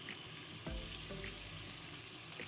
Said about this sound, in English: I'm just gonna fill it with water until I see the water hit that 1/3 level.